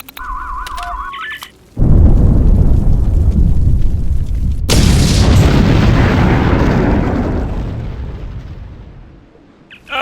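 Explosion in the video game Star Trek Online: a loud booming blast bursts in after a short electronic tone, followed by a second roaring surge that rumbles on and slowly fades.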